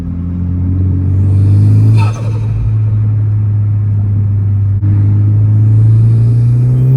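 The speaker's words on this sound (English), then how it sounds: "I will add a sound clip as well to this video, you know, of what the turbo sounds like with this setup." A Honda Type R with a stock turbo engine, modified to about 400 hp, revving loud and close with a deep sustained drone, a brief dip, a sharp transient, then a rising pull again.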